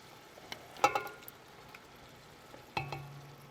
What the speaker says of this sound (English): We're going to put these tomatoes right into the mix.